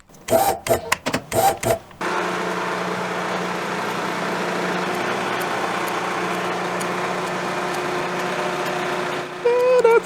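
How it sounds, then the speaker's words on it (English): A steady mechanical whir of a milling machine drilling a hole in a casting runs for several seconds, preceded by a few sharp clattering bursts, fairly loud and close. "Then I drill a hole that gave me access to the shaft's pilot hole"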